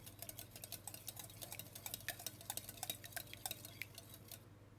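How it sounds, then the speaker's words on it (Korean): Eggs being gently beaten in a bowl with a whisk held against the bottom: faint, quick clicking and light scraping strokes, quiet and steady, with no one speaking. "공기가 들어가지 않도록 거품기를 바닥에 댄 채 계란을 풀어주세요"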